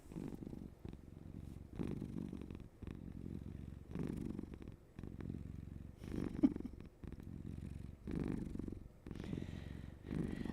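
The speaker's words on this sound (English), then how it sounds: "You got to purr into the mic, Jammy." Close to the microphone, a cat purrs steadily in a rhythmic pattern of breathy rumbles, each purr separated by brief pauses.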